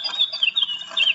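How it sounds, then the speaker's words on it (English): Electronic bird toy with a hidden rock-shaped button in a nature scene, giving off rapid high chirps and squawks in short bursts, fairly close, with no voices. "This toy sounds like actual birds."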